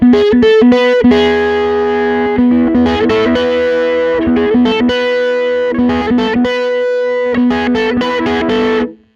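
A Teye Coyote electric guitar plays a melodic line with a slightly driven, effected tone, one pickup turned down while the other keeps sounding, notes ringing and changing steadily before cutting off at the end.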